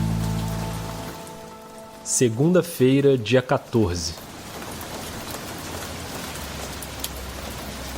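Light rain patters steadily in the background of a city street, with a brief stretch of spoken voice in the middle and soft, continuous drizzle around it.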